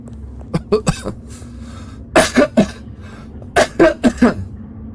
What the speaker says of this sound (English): the coughing is a bit too much, let me know